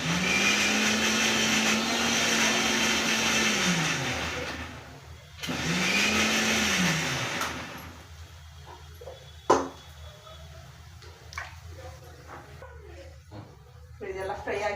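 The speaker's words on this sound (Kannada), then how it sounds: "ನೋಡಿ ಸ್ವಲ್ಪ ಸೊಪ್ಪನ್ನು ರುಬ್ಬಕ್ಕೆ ಹಾಕ್ತೀನಿ ನಾನು," A kitchen mixer grinder whirs through drumstick leaves and lentils in two bursts, a long run then a shorter one, each spinning up and winding down, followed by quieter clinks and handling noises.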